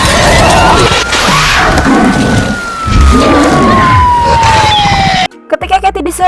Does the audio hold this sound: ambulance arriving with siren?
yes